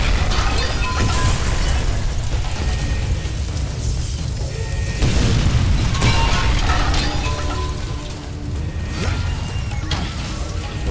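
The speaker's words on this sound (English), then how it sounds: "Imminent detonation within the gravity core generators." Gravity core generators exploding in the video game Bulletstorm, a dense continuous roar of blasts, crashes and rumbling debris, loud and sustained, with bursts of impact throughout.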